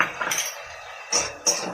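A fish head is stirred in a pan with ginger-garlic and onion paste, giving a soft scraping sizzle broken by a few sharp clinks of the spatula against metal.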